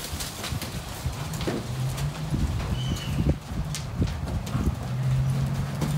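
A ridden Paso Fino horse clip-clops in quick, even hoofbeats on hard ground, close and steady, with birds chirping faintly in the background.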